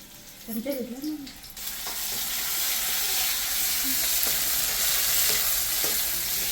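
Chopped onion frying in sunflower oil in a pan gives a loud, steady hiss and crackle close by. A brief, faint rattle of stirring sounds near the start, then the sizzle holds evenly.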